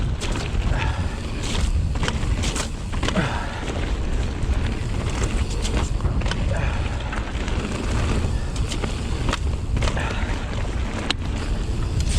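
Strong wind buffets the microphone during a mountain bike ride, a loud, steady roaring rush with gusty fluctuations that continues throughout.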